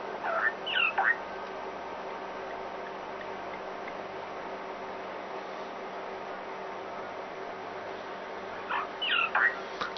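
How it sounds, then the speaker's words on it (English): An ibis gives a few harsh, raspy squawks in short bursts at the start and again near the end, moderately close, over a steady outdoor hiss, with a long quiet gap between the calls. "Another very noisy bird."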